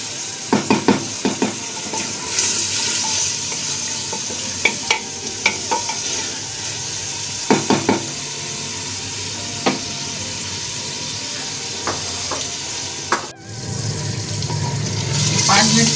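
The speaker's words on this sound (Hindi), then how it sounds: "चलाएं तेज आंच पे।" Tinday gosht, apple gourd with meat, stirred in a pot over high heat, giving a continuous loud sizzle broken by scattered knocks and scrapes of a spoon, with a brief hiss near the end.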